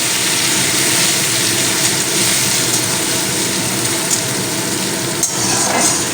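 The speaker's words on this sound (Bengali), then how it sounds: "ভালো করে তেলের মধ্যে একটু ভাজা ভাজা করে নিতে হবে" Steady, loud sizzling hiss of spices with ginger paste frying in hot oil for vegetable chops, continuous throughout with a few faint clinks.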